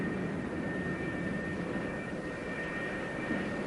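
F-4B Phantom II jets taxi across the flight deck of the USS Forrestal, a steady, dense jet roar with a sustained high whine, loud and unbroken throughout.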